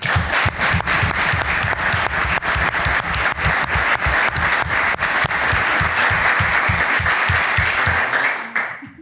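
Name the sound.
audience applause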